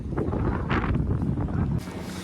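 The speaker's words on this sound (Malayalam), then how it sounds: "നമ്മൾ വള്ളം ഓടിപ്പോകുന്ന സ്ഥലം കണ്ടോ ഫുള്ള് കടലടിക്കുകയാണ്" Rough sea during a storm surges around a fishing boat out in deep water, a continuous roar of waves and heavy wind buffeting the microphone, with brief louder gusts and no talk.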